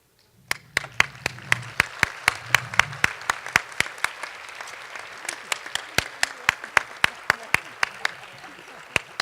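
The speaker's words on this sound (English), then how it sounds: "I was going to say I'd ask that you join me in a round of applause, but that's already happened" A luncheon audience gives a long round of sustained applause, dense and close, with many distinct claps and occasional brief voices underneath.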